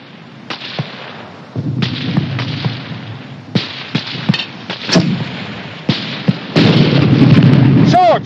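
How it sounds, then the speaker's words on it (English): Mortar fire in the 1951 war film Go For Broke!: a string of sharp bursts and booming blasts over rumbling battlefield noise, loud and close, with shouted voices in between. "Hurry up with that mortar!"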